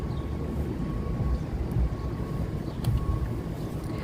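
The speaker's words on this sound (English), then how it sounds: "Ooh, it's really windy too." Steady wind buffeting the microphone, a constant low rumble with gusts swelling around the middle and near the end; no voices.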